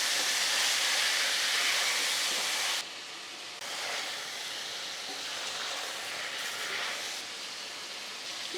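Chicken pieces fry in oil over a high flame, giving a steady, broad sizzling hiss that is loud at first, then drops and settles into a softer continuous crackle.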